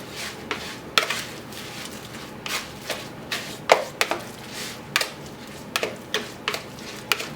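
Burger patty mixture with breadcrumbs squished and worked by hand in a bowl, giving a string of soft, wet squelches and slaps at an uneven rhythm, close and fairly quiet, with no talking.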